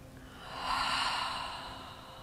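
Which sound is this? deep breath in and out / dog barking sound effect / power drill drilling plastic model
deep breath in and out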